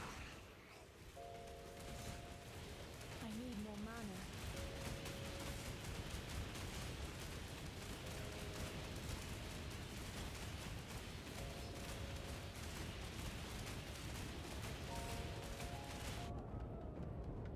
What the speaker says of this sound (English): Where the explosions are not aiming at the boss.